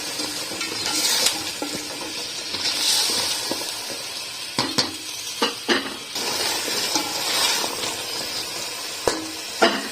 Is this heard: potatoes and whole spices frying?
yes